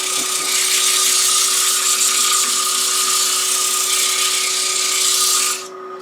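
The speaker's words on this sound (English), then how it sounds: "I may go ahead and hit this with some 120 sandpaper or 100, maybe 100 grit." Wood for a garden bird feeder is sanded with 100 grit sandpaper, making a continuous, close, abrasive rasp with a faint steady whine that runs evenly before cutting off abruptly near the end.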